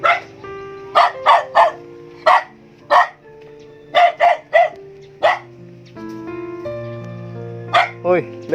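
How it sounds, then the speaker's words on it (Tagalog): Several dogs bark in loud, repeated bursts, some in quick clusters, with sustained musical tones underneath between the barks. "Okay lang itong mga aso mo."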